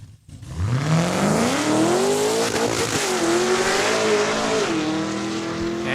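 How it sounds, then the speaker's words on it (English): A Cadillac drag race car making a single pass at a Saskatchewan raceway, a loud engine roar rising steadily in pitch as the tires grip and the car accelerates hard down the strip. "And you can hear those tires grip the ground."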